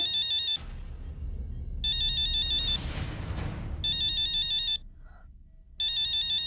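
A bright electronic mobile phone ringtone plays in repeated bursts, loud and close, broken by short gaps filled with a rushing noise.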